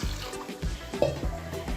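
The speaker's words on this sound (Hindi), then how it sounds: "अब मैं सबसे पहले इसके अंदर 2 लीटर के करीब पानी डालूँगी।" About two liters of water poured into a pressure cooker on a lit gas stove for mutton pulao, a close, uneven splashing trickle with soft gurgles.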